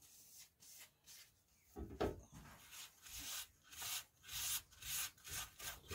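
Birdseye maple burl bowl on a wood lathe being sanded and polished with sanding paste and then polishing paste, giving rhythmic close rubbing and scraping strokes that swell and fade repeatedly, with no talk.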